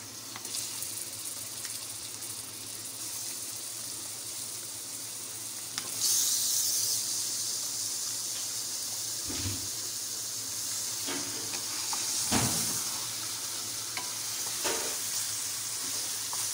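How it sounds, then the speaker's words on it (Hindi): Chicken pieces frying in a pan for palak gosht, a steady loud sizzle and hiss close by that swells after a few seconds, with occasional knocks and scrapes of a spoon stirring, and no talking. "चिकन डाल के इसको हमने 5-7 मिनट के लिए अच्छी तरीके से भून लेना है।"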